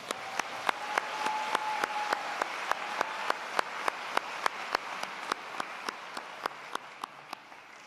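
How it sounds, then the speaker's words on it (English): An audience at a MacEwan University convocation ceremony claps for the university big bands, with steady, evenly spaced claps sounding fairly soft and continuing throughout with no talking. "please join me in a round of applause for the MacEwan University Big Bands."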